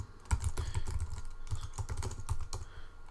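Someone types a link on a computer keyboard, producing a quick, fairly soft run of key clicks close by.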